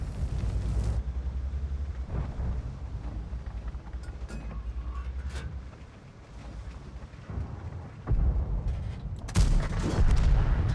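Heavy booms from World of Tanks tank guns, a deep low rumble throughout with one sharp shot early and louder blasts near the end, close and strong with no voices.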